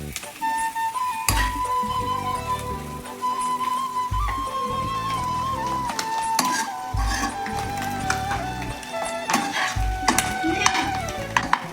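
Egg frying in a kadai seasoned with salt, turmeric and chilli powder, a steady sizzle under repeated clinking stirs of a spoon against the pan, close and fairly loud throughout.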